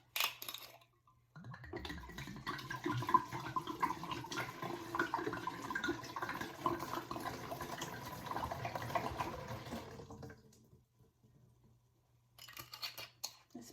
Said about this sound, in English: we're gonna pour the entire bottle of the New Amsterdam Watermelon in here